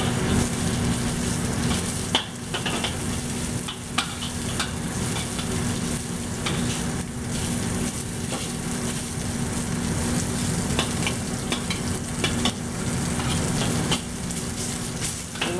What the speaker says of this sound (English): You don't need to stir them real fast, you just spread them out so they can brown in the meat